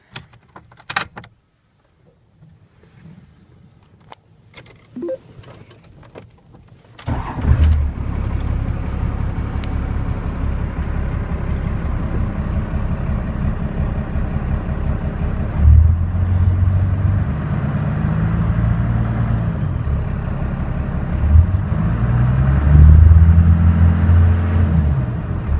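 First-generation Cummins diesel pickup truck engine: some quiet clicks and handling sounds, then the engine cranks and catches, settling into a loud, steady, rumbling idle with slight swells, close up and without talk.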